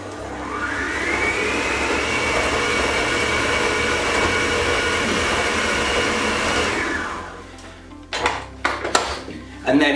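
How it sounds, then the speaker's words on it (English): A stand mixer beats butter and icing sugar at low speed, giving a steady, close motor whine for several seconds before it winds down, followed by a few clinks and clatters. "we're going to pop that back on the stand mixer, start on a really low speed"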